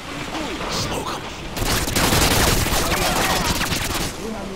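Dense, loud automatic gunfire from Modern Warfare 2 erupts in a sustained rattling fusillade, close and harsh, after quieter ambient game noise.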